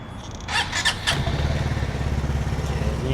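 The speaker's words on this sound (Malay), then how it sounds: "Okay, bagi aku hidupkan enjin." An Aveta Nova 250 motorcycle engine cranks with a brief whine, catches, and settles into a steady, close rumbling idle.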